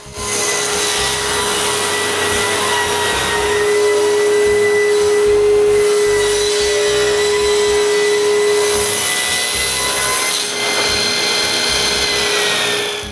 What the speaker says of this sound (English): When I'm satisfied with the fit, I rip each frame piece to width